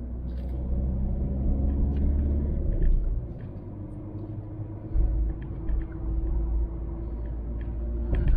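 Car cruising on a road during a driving lesson, a steady low rumble of engine and tyres that dips and swells slightly, with no voices.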